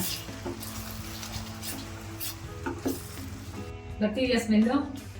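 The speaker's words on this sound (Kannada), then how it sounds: "ಪಾಲಕ್ ಸೊಪ್ಪು ರುಬ್ಬಿಟ್ಕೊಂಡಿದ್ದಲ್ಲ ಪೇಸ್ಟ್, ಅದನ್ನ ಹಾಕೊಬೇಕು. ಇದನ್ನು ಮಿಕ್ಸ್ ಮಾಡ್ಕೊಳ್ಳೋಣ ಚೆನ್ನಾಗಿ" Spinach paste stirred into a sizzling chana curry in a pan, a soft scraping and bubbling sizzle running steadily under a person speaking, with clearer stirring and clinks toward the end.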